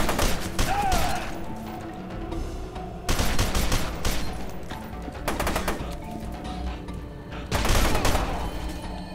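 Rapid automatic assault rifle fire bursts out in F.E.A.R. 2 combat, loud clattering volleys arriving in several separate bursts with short lulls between them.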